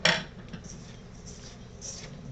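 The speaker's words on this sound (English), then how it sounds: "Mix that together pretty well" A spoon clatters against a bowl as corn flour and sugar for a carp bait corn bread boilie mix are stirred, then soft scraping continues quietly.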